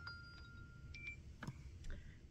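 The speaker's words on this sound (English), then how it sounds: "Darn phone always interrupts me." Phone notification beeping in a quiet room, a few short, faint electronic tones scattered over about two seconds, heard alone without talk.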